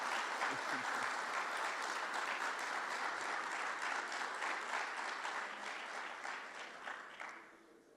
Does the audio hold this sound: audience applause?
yes